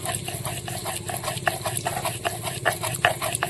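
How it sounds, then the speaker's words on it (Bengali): Fresh ginger is ground on a stone slab in a village kitchen. The stone rasps and knocks in a steady rhythm of strokes, fairly quiet, with no talking. "আদাটা বেটে নিচ্ছি।"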